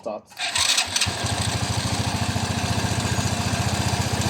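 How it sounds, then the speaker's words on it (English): A motorcycle engine is started before an oil change and left running to warm up, catching after a short crank and settling into a steady, close, rhythmic idle. "I'll fire it a bit to warm the engine"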